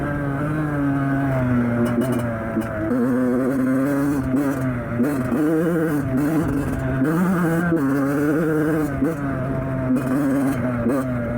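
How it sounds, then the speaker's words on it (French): A 2006 Yamaha 85 YZ two-stroke motorcycle accelerating on a ride: a loud, close, buzzing engine that rises and falls in pitch through the gears, continuous throughout. "je vais essayer de mettre un peu plus de gaz"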